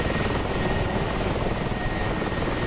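An MI-24 helicopter in a combat flight game, its rotor and turbine producing a steady, dense, close whirring drone that holds evenly throughout.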